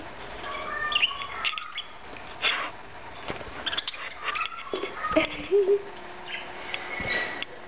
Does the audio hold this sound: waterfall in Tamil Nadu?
no